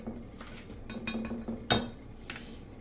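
Brown sugar and mustard glaze stirred into tofu inside a baking dish, with a few quiet clinks and scrapes of a utensil against the dish and one sharper knock near the end.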